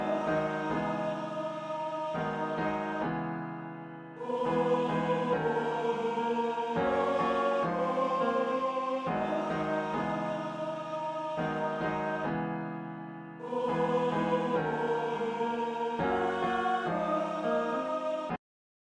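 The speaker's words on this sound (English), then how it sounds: "I then added a choir from Sonatine Orchestra, as well as a piano from Piano Tech" Layered choir and piano sample playing sustained chords in phrases, with a brief dip in level partway through, rich and continuous, no voices speaking.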